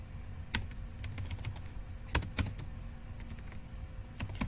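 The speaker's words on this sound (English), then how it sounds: "So I am typing here image tag img src is equals to" Fingers tap on a computer keyboard while HTML code is entered, with a few sharp, close clicks in irregular bursts over a low steady hum and no talking.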